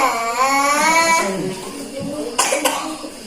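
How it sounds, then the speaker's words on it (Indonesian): A child coughs a few times up close, the harsh bursts cut in among other voices. "batuk heula, batuk heula."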